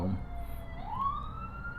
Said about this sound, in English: it's a police car or an ambulance or something